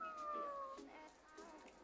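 A cat meows inside the horror adventure game Ghostwire: Tokyo, set in Shibuya, heard as a clear, fairly close falling cry of under a second at the start, followed by a softer trailing call over faint game ambience.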